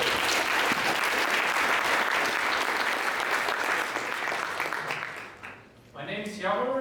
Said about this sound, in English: so please applaud Moni.